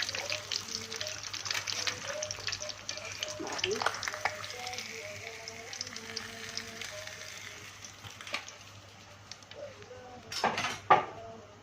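Fish frying in oil in a home kitchen pan, a steady crackling sizzle running throughout, with faint utensil clatter, a few close clinks near the end and brief background voices.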